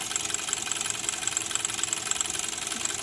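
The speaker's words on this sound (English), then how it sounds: "So it's happily chugging away at about an eighth throttle" A 1926 Bowman 234 live steam model locomotive runs indoors at about an eighth throttle, giving a quiet, steady, fast chuffing beat with a faint hiss over it.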